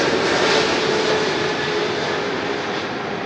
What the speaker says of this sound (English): I think I hear one coming in now. And this one is an EVA Air.